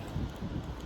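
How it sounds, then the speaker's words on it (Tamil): Strong wind gusts at Souq Waqif in Qatar, a brief, low rumbling buffet of wind noise against the microphone, fairly faint and without speech. "இன்றைக்கி பயங்கரமாக காற்றடிக்குது"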